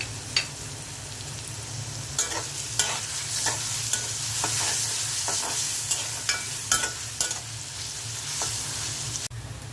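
Chopped onion and garlic fry in oil with garam masala, a loud, steady sizzle close by, broken by repeated sharp scrapes of a spatula stirring the pan and ending in a clatter.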